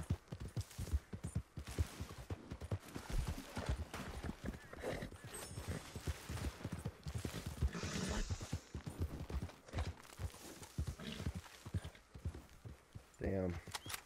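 Horses galloping in Red Dead Redemption 2 Online, with rapid, close hoofbeats clattering in a steady stream, overlapping with people talking throughout.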